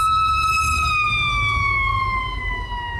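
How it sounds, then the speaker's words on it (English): A fire truck siren wails loudly and steadily nearby, its tone slowly gliding downward over a low rumble of traffic. "here comes a fire truck"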